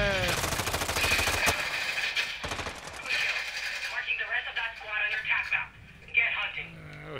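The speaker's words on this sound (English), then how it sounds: "Shooting around" Gunfire in Call of Duty Modern Warfare 2, rapid bursts of automatic fire loud in the first half, then sporadic shots and game effects under ongoing talk and voices.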